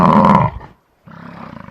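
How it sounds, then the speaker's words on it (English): Bison call: a loud, deep, throaty roar lasting about half a second, a brief silence, then a lower rumbling grunt with a pulsing texture, heard alone and close. "bison"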